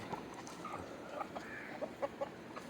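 Free-range country chickens clucking in short, scattered bursts, fairly close, with a soft farmyard murmur underneath.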